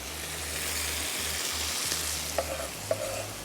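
Minced meat fries with carrot and bell pepper, giving a loud, continuous sizzle with stirring scrapes and two sharp clinks near the end.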